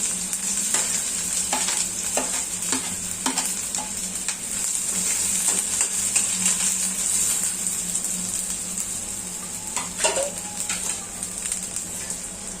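Onions for a Goan clam curry sizzle loudly in a pan, a steady close hiss broken by repeated stirring scrapes and clinks, with no talking.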